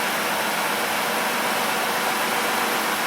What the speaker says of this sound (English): You know, I don't hear any difference in the way the vehicle runs.